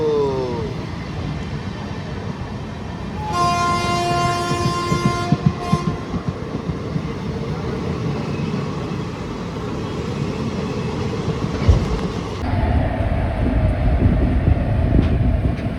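Jagannath Express pulling into a station, a loud sustained train horn blaring near the start over steady rolling rail rumble and clatter, with a shift in the heavy low noise near the end as the train keeps moving.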